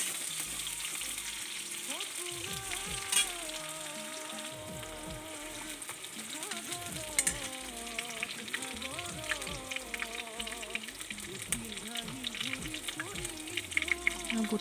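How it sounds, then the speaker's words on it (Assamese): Onions fry in mustard oil for a pork and tora dish, a faint, steady sizzle that runs throughout while a quiet voice murmurs intermittently beneath it. "পিঁয়াজখিনি অলপ ৰঙচুৱাকৈ ভাজি লৈছোঁ"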